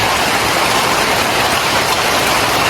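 Heavy rain pours down outside a house as wind drives spray in through the walls, a loud, dense, unbroken hiss that holds steady throughout with no voices.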